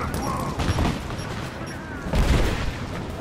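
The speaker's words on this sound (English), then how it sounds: "Throw the grenade." A grenade explosion in the action game Rise of the Tomb Raider: two loud booming blasts, one early and a heavier one near the end, over gunfire and combat noise.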